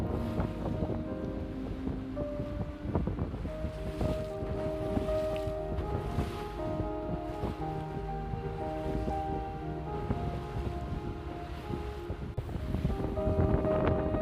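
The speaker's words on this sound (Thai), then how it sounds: "คือวันนี้ลมแรงมากนะคะ" Strong wind buffets the microphone on a boat ride along a river past bridges, a continuous rumbling roar mixed with engine drone and water noise throughout, with no talk.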